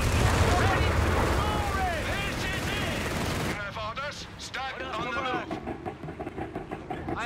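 Gunfire crackles through a Company of Heroes 3 battle, dense bursts of machine-gun and rifle shots over rumbling combat noise, loud at first and then more scattered, with unit voices calling out over it.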